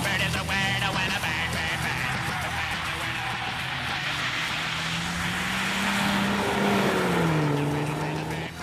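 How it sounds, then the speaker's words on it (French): A Skoda Fabia RS drives laps on a cold, snow-free race track, its engine droning loudly and steadily with shifting pitch as it accelerates and changes gear. "nous avons pris le volant d'une Fabia RS"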